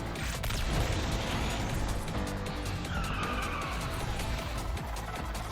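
Video game car drifting in Need for Speed Unbound, with a sustained loud roar of engine and squealing tires sliding through a corner, continuous and close without pause.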